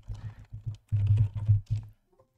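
Computer keyboard typing while modeling in CATIA V5, rendered as close, bursty clusters of keystrokes in uneven rhythm, with brief pauses between runs and a quiet tail at the end.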